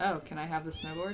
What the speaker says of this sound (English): It's a oh, cat. That's a cat.